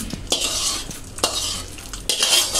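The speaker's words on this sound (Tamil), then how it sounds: "காஞ்ச மிளகாவை போட்டு நல்லா கலந்து விட்டுருங்க" A spoon scrapes and stirs fried urad dal and dried chillies in a pan, with repeated close scraping strokes over a light sizzle of oil.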